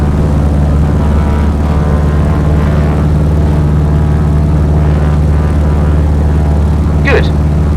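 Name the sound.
Piper Cub engine at full power climbing, flight simulator game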